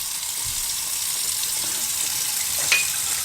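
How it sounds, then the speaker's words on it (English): Cold tap water runs steadily into a cooking pan, a constant close rushing hiss throughout, with one brief metallic clink near the end and no talking. "So I'm going to run some cold water and cool this pan down fast."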